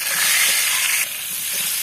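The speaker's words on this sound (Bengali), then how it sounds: "প্রথমে ডিমটি একটু ভাজতে হইবে" A boiled egg fries in a pan with salt and turmeric, producing a loud, dense, continuous sizzling hiss that drops slightly partway through.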